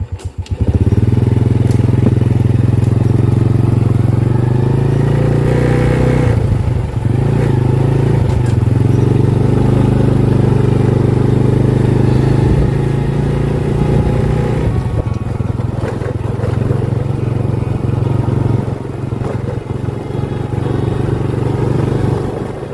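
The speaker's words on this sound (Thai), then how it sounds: "เดี๋ยวผมจะพาขี่รถไปเรื่อยๆครับ" A motorcycle cruises along a quiet rural road past houses and forest, its engine a loud, steady drone with shifting revs and occasional clatter and wind rumble throughout.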